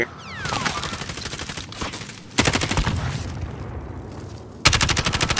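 Rapid bursts of automatic gunfire crackle in Call of Duty: Modern Warfare, loud and close, in three dense volleys separated by short pauses.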